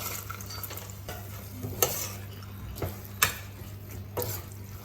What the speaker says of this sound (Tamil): இது 1 நிமிஷம் நல்லா வதங்கட்டும்.